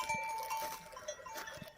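A flock of sheep and lambs outdoors, faint bleats and a tinkling bell under quiet ambience, with no talk.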